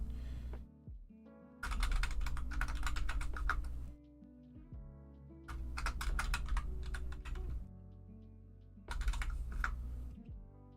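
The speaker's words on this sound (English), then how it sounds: "I'm going to type in names. You and I am horrible at typing," Fingers type on a computer keyboard in three bursts of rapid, close clacking, with quiet pauses between the bursts.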